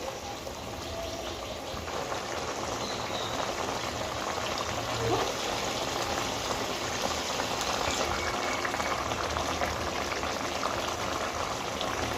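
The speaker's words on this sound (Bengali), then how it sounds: "গ্রেভিটা ফুটছে এবার মাছগুলো একে একে দিয়ে দেবো" A pan of rohu fish curry gravy bubbles at a steady boil, a continuous soft, dense simmering that runs evenly throughout without speech.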